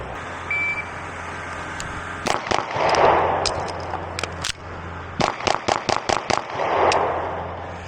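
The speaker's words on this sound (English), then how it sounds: "First shot was a 177. 24, 270 reload, 27, 21, 20, 21, 20. So this pistol can run fast." A Beretta PX4 Storm Compact Carry 2 pistol fires at a shooting range in quick strings of sharp, loud shots: a few early cracks, a short pause, then about seven rapid evenly spaced shots.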